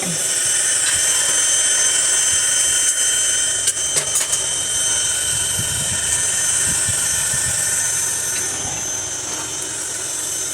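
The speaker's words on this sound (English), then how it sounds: "That little air mattress pump that I'm using probably is quite a headache on video" Small electric air mattress pump driving air into a blacksmith forge, a steady loud hiss and whine running continuously throughout, with faint clinks and low rumbles beneath.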